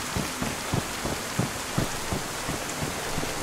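Rain falling in the video game DayZ, a steady wash of patter with soft irregular thumps of heavier drops, fairly close and alone.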